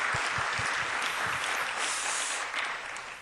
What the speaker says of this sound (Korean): 우리 두 분 우리 박수로 환영하겠습니다